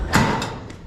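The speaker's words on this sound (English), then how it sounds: "Let's open up this door a little bit though." A small door on a lawn mower being opened during repair work, giving a few brief, close clicks and soft thumps over faint background noise.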